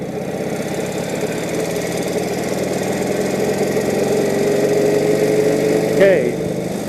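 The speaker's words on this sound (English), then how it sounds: "forward the throttle, push in the clutch, go into second gear," A 1948 Indian Chief motorcycle engine pulls away and shifts up through the gears, a steady loud close-up rumble with a rising tone and a brief change near the end of the stretch.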